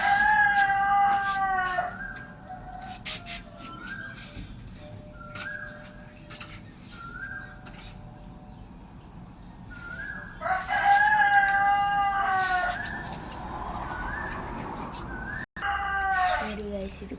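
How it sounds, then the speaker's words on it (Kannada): A rooster crows several times outdoors at dawn, with shorter calls between, and people talk briefly near the start and end. "ಇದು ಕೋಳಿ ಕೂಗ್ತಾ ಉಂಟು."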